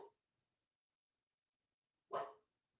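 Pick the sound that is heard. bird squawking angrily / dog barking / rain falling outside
dog barking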